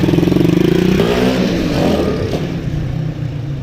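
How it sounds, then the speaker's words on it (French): Close Honda Dax motorcycle engine revving up, climbing in pitch with a choppy, pulsing note, then easing off into a rougher idle. "En fait j'adore ma moto hein, mais elle fait un bon bruit et tout."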